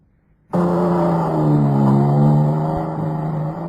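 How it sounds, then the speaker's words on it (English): A car engine starts suddenly after a moment of quiet and revs as the vehicle pulls away, a loud, steady, close engine note that holds and then eases slightly toward the end. "The car's driven off."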